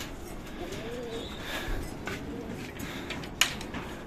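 Pigeons cooing softly inside a loft as the birds are moved, with low murmuring calls over steady background noise and one brief sharp click near the end.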